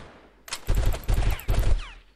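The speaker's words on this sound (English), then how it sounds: "is there somebody else shooting at me? I thought I saw some bullets being fired from this direction" Rapid bursts of automatic gunfire from the video game Delta Force, several loud volleys of shots in quick succession with a few pauses between them, up close and with no talk over them.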